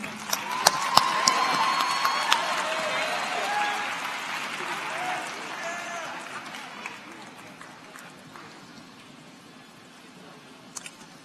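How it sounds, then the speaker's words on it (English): An audience at a conference opening plenary claps for a team, a broad wash of applause with a few sharp close claps and scattered cheers that gradually fades out. "A big round of applause for our Ambassador Team"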